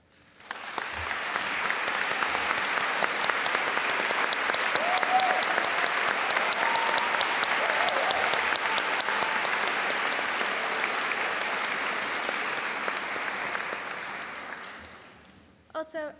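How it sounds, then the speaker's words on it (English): School commemoration for a class of 2018, with a large audience breaking into sustained applause that swells quickly, holds steady for over ten seconds, then tapers off into a few final claps. "please stand for a round of applause."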